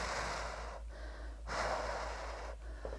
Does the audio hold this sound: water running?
no